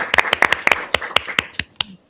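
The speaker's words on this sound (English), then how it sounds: "let's give them both a round of applause." Scattered hand claps from a small council meeting audience, a dozen or so sharp, separate claps close by that thin out and stop within about two seconds.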